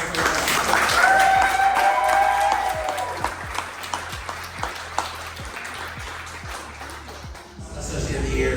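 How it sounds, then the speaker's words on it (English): Sustained audience applause at an awards ceremony at the Westin Nanea, a dense wash of many clapping hands that holds steady before thinning slightly near the end, with crowd murmur underneath. "Round of applause for those who are"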